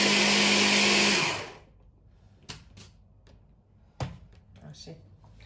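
An electric mixer beating cake batter with butter whirs loudly and steadily for about a second, then winds down, followed by quiet knocks and clicks of the bowl being handled.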